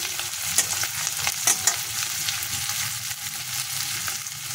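Onions sizzle in hot oil in a pan while they are stirred, making a steady close frying hiss broken by a few scraping clicks of the spoon. No voices are heard.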